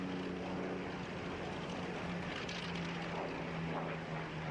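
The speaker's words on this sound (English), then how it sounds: "Two French Sky Raiders take off together from the grass." Two French Douglas Skyraider propeller aircraft at the Duxford Flying Legends airshow make a continuous, fairly faint engine drone with a steady low hum as they take off together from grass, with no talking.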